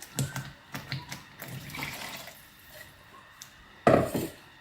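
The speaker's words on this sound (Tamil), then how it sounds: "இந்த மிக்சியை கழுவி கொஞ்சம் தண்ணி ஊற்றிக்கலாம்" Water splashes and sloshes inside a mixer jar during rinsing, with clattering knocks, ending in a louder gush of pouring or swirling water.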